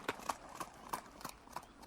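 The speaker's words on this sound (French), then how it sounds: "le vieux cheval blanc se mit à trottiner d'un train si doux qu'il semblait danser sur place" Old white horse trotting gently, hooves clip-clopping in a light, even rhythm of about six distinct hoofbeats, fairly faint and without any speech.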